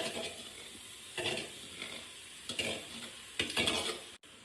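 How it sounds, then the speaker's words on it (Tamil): Cooked rice tossed and stirred in a hot pan for fried rice, with a steady sizzle and several scraping stir strokes recurring every second or so, close and clear, with no talking. "இந்த ரைஸ இதுல போட்டுக்கலாம்."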